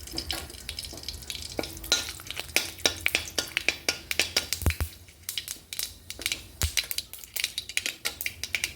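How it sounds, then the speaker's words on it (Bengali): Bay leaves and mustard seeds crackle and pop in hot oil, a dense run of sharp spitting bursts close up, steady and busy throughout with a brief lull midway. "তেলটা গরম হয়ে গেছে, এখন তার মধ্যে আমি দুটো তেজপাতা দিয়ে দিচ্ছি আর একটু সর্ষা ফোড়নে দিয়ে দিচ্ছি"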